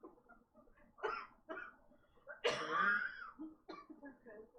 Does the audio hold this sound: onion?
no